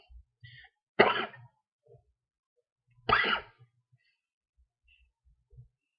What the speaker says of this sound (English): Damn, I can't get over this cough.